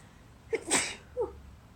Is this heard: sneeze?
yes